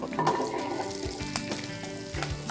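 Shallots tipped into a hot pan and frying, a close crackling sizzle with a few stirring scrapes and clinks, moderately loud and short.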